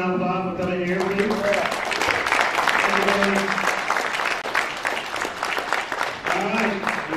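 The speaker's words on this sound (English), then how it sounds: "y'all get one more round of applause for coming here" A crowd at a talk event breaks into applause, with hearty, steady clapping that continues under a voice at the start and again at the end.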